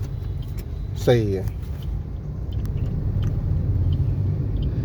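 A learner driver's car pulls away after the clutch is released, a low steady engine rumble filling the cabin throughout, with a brief instructor's voice speaking over it near the start.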